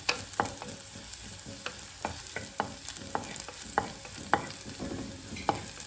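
Food for chicken curry sizzles steadily in a pan while a utensil scrapes and stirs in regular strokes, close up with no talking.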